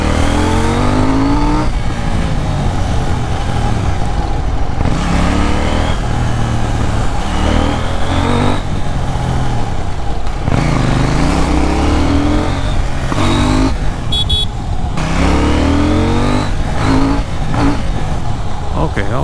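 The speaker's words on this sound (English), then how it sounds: "bike has to warm up a bit, I think." A KTM Duke 790 motorcycle engine warming up, its loud close exhaust note rising and falling in repeated revs throughout, with a voice talking at times over it.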